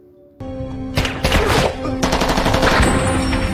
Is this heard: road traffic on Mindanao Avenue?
no